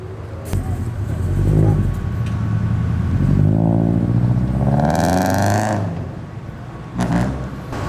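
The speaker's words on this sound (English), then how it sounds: "That Aventador SV was not having the no revving policy, so he let him hear it." A Lamborghini Aventador SV revs loudly at a car show, its engine note rising and falling in several sustained blips, close and strong throughout, with a sharp surge near the end.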